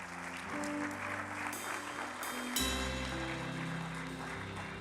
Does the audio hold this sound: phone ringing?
no